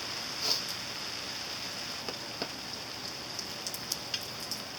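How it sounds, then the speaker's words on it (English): Steady soft rain hiss with scattered drops pattering nearby, a constant wash of sound with occasional sharper taps. "It's starting to rain again."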